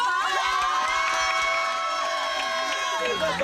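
Group of young people on a trip cheering and shouting in a loud, sustained burst, many overlapping voices whooping together close by.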